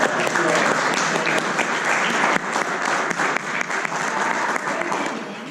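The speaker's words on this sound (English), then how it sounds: "Let's give a round of applause to our" Audience applause fills a presentation hall, a dense, steady wash of many hands clapping close by, dipping briefly midway and then carrying on without any voices over it.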